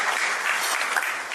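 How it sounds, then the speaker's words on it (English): Audience applause for the sponsors at a Nigerian British awards gala, a dense, loud burst of clapping lasting just over a second with no voices. "Please, a round of applause for all our sponsors tonight."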